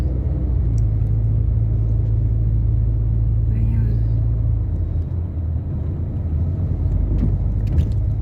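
Car driving on a road, heard from inside the cabin as a continuous low rumble and road noise, with a brief spoken word over it.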